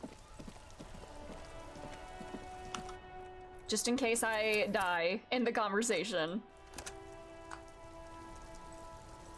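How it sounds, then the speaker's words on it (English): Steady rain pattering throughout in the video game Disco Elysium, with a person talking for a few seconds in the middle. "It's raining again."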